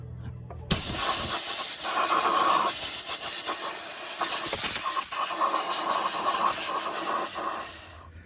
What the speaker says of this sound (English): I'm going to use some compressed air and just make sure that's nice and clean.